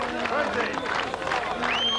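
A crowd cheers and claps steadily at a World's Strongest Man strongman event, the noise continuous and fairly loud, with a commentator talking over it.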